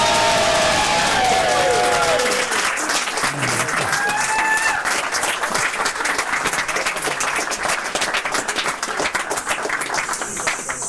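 Audience applause at a whisky tasting event, a dense sustained crowd clapping lasting throughout, loud and close with a few cheers and whoops mixed in, steady without pauses.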